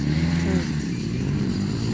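Racing motorcycles roar in the expert-category final of a flat track race in Barangay San Rafael, Dulag, Leyte, a loud continuous engine drone with a shifting pitch, heard close alongside a voice.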